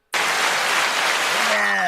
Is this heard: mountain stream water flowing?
no